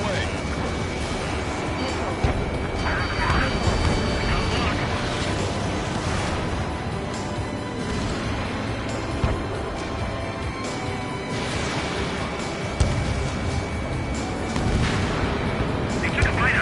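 Missiles launch and detonate in the Ace Combat 7 flight game, a dense, continuous roar of booming blasts and rumbling gunfire-like bursts with sharper impacts near the start and end, under game radio chatter.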